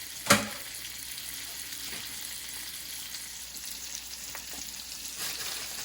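Salmon fillets pan frying, giving a steady, hissing sizzle throughout with a brief sharp clatter near the start and faint small pops later, close and alone without speech.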